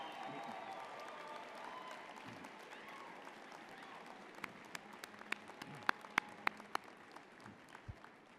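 University graduates at a convocation ceremony cheer and applaud, a broad wash of crowd noise that fades gradually, with distinct sharp claps and whoops standing out near the end.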